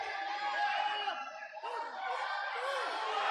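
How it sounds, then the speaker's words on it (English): Crowd noise from a full house at a high school wrestling match in the Lisbon Armory, North Dakota, a faint, continuous wash of chatter and scattered shouts inside a large hall. "You can hear the crowd."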